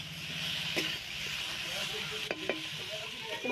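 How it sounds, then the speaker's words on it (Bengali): Cut eggplant sizzles steadily in a pan of fried onion and chilli while a spatula scrapes and stirs it, with a few sharp clinks against the pan. "বেগুনটাকে আমি 5 মিনিট মতো ভেজে নেব"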